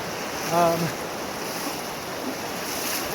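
Steady rushing water fills the scene as a river flows through a narrow slot canyon in the Zion Narrows, a broad continuous wash with a brief faint whistle-like tone near the start.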